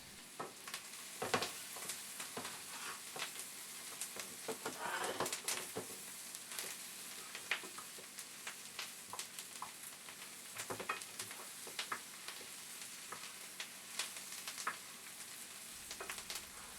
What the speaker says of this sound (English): You've just sautéed onions.